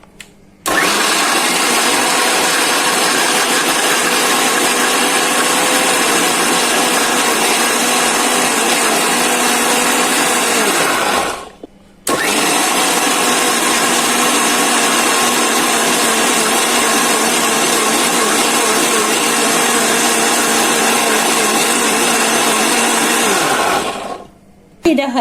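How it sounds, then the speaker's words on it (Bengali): A kitchen blender whirs loudly while blending green chilies with coriander leaves for a homemade chili sauce, running in two long continuous bursts with a brief stop between them. "এখন ব্লেন্ডার করে নিচ্ছি"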